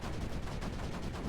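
Mortar fire from a battery of in-game mortars in the strategy game Creeper World 4, a dense, continuous rumble of rapid thumping shots with steady loudness throughout and no speech.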